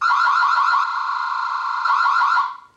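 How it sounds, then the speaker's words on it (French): An X-Sense wireless solar surveillance camera sounds its alarm siren, a loud, piercing electronic wail with a rapidly warbling, pulsing tone that holds steady for over two seconds before cutting off sharply. "il y a une sirène qui sonne donc pendant une dizaine de secondes"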